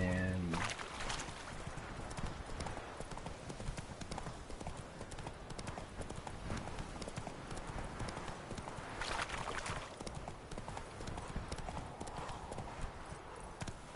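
Steady clip-clop of the horse Roach's hooves in The Witcher 3: Wild Hunt, a continuous trotting rhythm at moderate distance over a soft outdoor game ambience.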